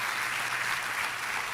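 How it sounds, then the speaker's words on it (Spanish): A church congregation applauds together during an Easter Sunday service, a steady, dense wash of clapping that fills the short moment evenly without breaks or voices. "Démosle un aplauso a Jesús, que ha vencido y que ha resucitado."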